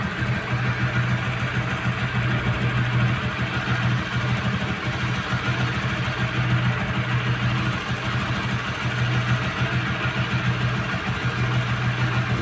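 Honda CB150R motorcycle engine idling steadily with a low, even mid-pitched thrum and slight vibration, running close by and alone for the whole stretch while its radiator coolant is being drained and refilled.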